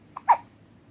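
A three-week-old baby gives a single short hiccup with a soft vocal squeak just before it, close and quiet against silence.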